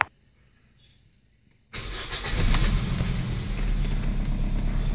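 A Toyota Vios with a misfiring, rough-running engine cranks briefly after a quiet pause, catches and settles into a steady, loud idle that continues to the end.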